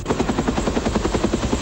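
A military helicopter from the Vietnam War in 1972, a general's personal aircraft, gives off a loud, steady rotor chop with an even, rapid thudding beat throughout.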